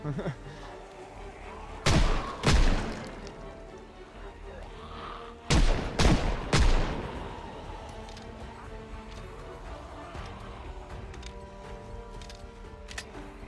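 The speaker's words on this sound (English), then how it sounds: "I want to get some target practice in. There are a lot of zombies." Two clusters of loud gunshots ring out while shooting zombies in the video game Project Zomboid, each burst of a few sharp reports followed by quieter game ambience and faint background sound.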